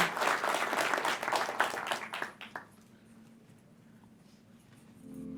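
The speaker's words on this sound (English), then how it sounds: "give Javi and Eric a round of applause" Enthusiastic audience applause at a tech conference talk, a dense burst of clapping for a few seconds that quickly dies away into quiet room tone.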